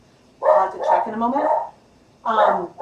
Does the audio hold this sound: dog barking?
yes